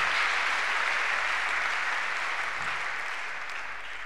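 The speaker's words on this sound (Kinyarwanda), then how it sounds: "Tukongera Imana amashyi menshi cyane." A church congregation applauds during a worship service, a dense and sustained clapping that stays loud throughout and fades slightly toward the end, with no speech on top.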